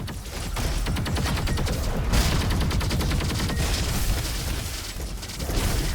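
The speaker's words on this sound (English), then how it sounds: "Who is shooting me?" Dense, relentless gunfire in the co-op shooter Roboquest, with overlapping shots and booming blasts crowding in from every side; a loud, continuous barrage with no pauses and no speech.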